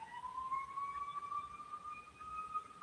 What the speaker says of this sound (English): You're hearing the siren, eh?